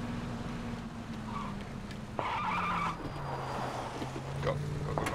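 A truck drives in the PUBG video game, its engine droning steadily with pitch shifting as it accelerates and changes gear, a brief rise in roar partway through, heard alone without voices.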